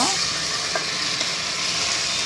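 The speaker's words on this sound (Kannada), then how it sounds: "ಎಲ್ಲ ಬ್ರೌನ್ ಕಲರ್ ಬರುವವರೆಗೂ ಫ್ರೈ ಮಾಡ್ಕೊಂಡಿದ್ದೀನಿ ಲೋ ಫ್ಲೇಮಲ್ಲೇ ಮಾಡ್ಕೋತಾ ಇರೋದು ನಾನು" Cashews, dried red chillies and curry leaves fry in oil over a low flame, giving a steady, close sizzle with a faint stir or two.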